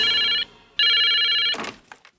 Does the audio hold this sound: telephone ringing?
yes